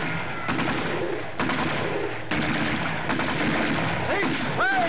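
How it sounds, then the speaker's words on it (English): Gunfire and artillery shots boom in repeated heavy blasts on an old film battlefield, loud and dense, with a few shouted voices over the barrage. "Stop shooting! We'll surrender."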